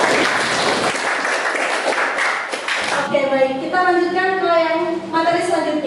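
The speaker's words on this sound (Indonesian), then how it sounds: "Tepuk tangan dulu untuk." A classroom of children claps and cheers together for a few seconds, then a teacher's voice continues speaking over faint scattered claps.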